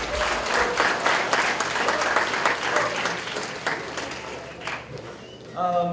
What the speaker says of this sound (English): A big round of applause for Mr. President George Clark.